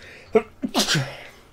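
A single sharp sneeze sounds close by, a quick inhaled catch followed by a bursting expulsion, during a casual talk recording about video games.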